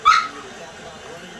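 A dog gives one sharp, high yip or bark close by, then falls to a quiet background with faint ambient noise.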